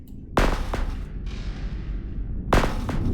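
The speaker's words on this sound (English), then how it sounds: "look at all that gunfire coming from me, baby" Spaceship guns fire in the Astrox Imperium space game, with a few sharp, loud blasts spaced over a low rumbling background.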